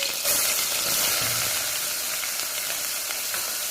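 Finely chopped onions, about a cup, sizzle in hot oil in a pan, a loud, bright, steady frying hiss heard up close with occasional stirring scrapes.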